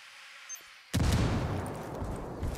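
A grenade blast in a first-person shooter match hits abruptly after a quiet stretch and fills the rest of the clip with a loud, broad roar that slowly decays.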